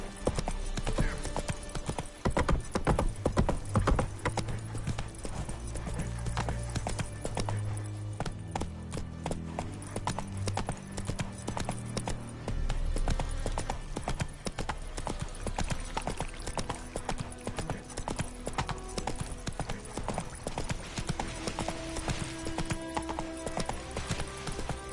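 Roach, a horse in The Witcher video game, trots with steady rhythmic clip-clop hoofbeats throughout, loud and close, with occasional brief game voices and background music underneath.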